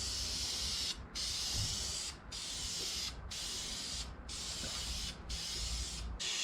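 High-temperature clear coat sprays from an aerosol can onto a valve cover in a string of close, steady hissing bursts. Each lasts about a second and is split by a brief pause, with no talking.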